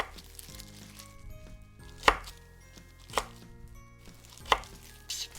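A knife chopping radish and beet into small square cubes on a cutting board gives three sharp, close knocks spaced about a second apart, with quieter cutting sounds between them and no talking.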